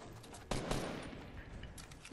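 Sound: gunfire in a video game (Fortnite)

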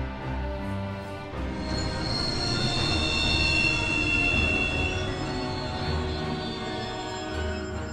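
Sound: train wheels squealing as the train stops, Final Fantasy XV video game

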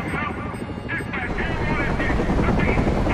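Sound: helicopter in video game Batman: Arkham Origins

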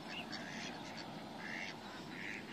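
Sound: ducks quacking

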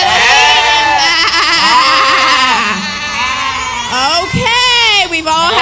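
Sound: children imitating sheep bleating

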